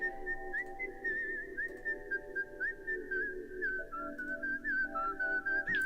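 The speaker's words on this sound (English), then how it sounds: "you remember there was a whistling sound" A steady, tuneful whistle wavers around one pitch for several seconds, with a few short slides between notes, heard clearly over a low background hum.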